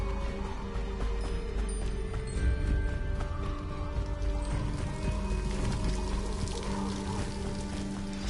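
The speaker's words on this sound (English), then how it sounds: "The waterfall." A waterfall in Hogwarts Legacy rushes steadily in a constant broad wash of falling water, with soft sustained musical tones layered underneath.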